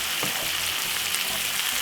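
Vegetables frying in a pan over medium heat, a close, steady hissing sizzle with a faint stir or two and no talking.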